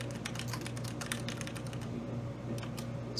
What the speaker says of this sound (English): Excuse my misspelling if I do that while I'm typing.